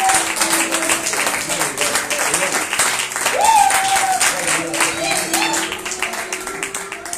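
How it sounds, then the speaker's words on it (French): Applause from an audience at a church service, a steady patter of clapping that swells a little midway, with a voice talking over it. "On peut applaudir pour..."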